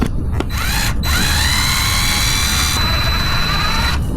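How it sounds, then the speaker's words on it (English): Fanttik S1 Apex electric screwdriver unscrewing on its low speed at torque setting 3, a close, loud motor whine that starts, stops briefly, then runs on with a steady high-pitched drone. "We're going to unscrew first."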